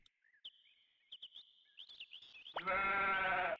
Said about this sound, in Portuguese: Pegou uma ovelha.